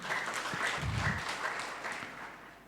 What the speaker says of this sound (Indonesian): Yang mau berikan tepuk tangan meriah buat Tuhan kita.